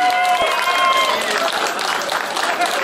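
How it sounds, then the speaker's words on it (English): A comic con audience in Swindon gives a loud, sustained round of applause, with crowd noise and some bright tonal sounds mixed into the steady clapping. "Round of applause for Matthew Dale"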